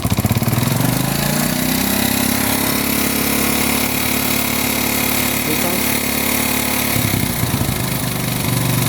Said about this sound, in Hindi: अब हम हल्का सा एक्सीलेटर दें